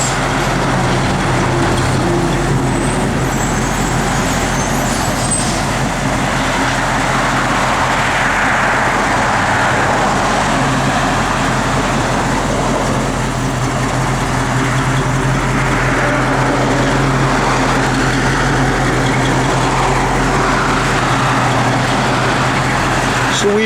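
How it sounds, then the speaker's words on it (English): Road traffic passing along a street, a loud continuous rumble of car and truck engines with a steady low drone that swells and fades slightly as vehicles go by, no clear talk. "bit of traffic out here."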